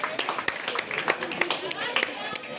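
A crowd at an equestrian event claps for departing riders, with scattered, uneven hand claps under a nearby speaking voice.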